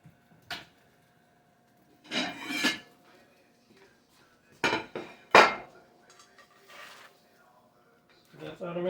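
Grilled cheese being plated from a cast iron skillet onto a dish, with several separate scraping and clinking clatters of metal against dishware, close and moderately loud, spaced out with quiet gaps.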